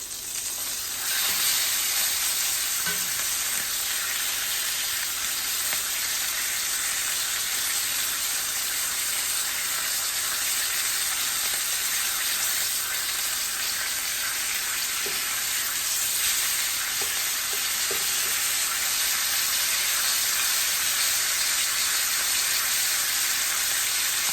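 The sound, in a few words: ribeye steak searing in a pan after flipping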